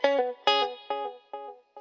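Electric guitar tracks in a pop mix with the delay effect bypassed, playing a string of short plucked chord stabs in a steady rhythm, each cut off dry with little tail.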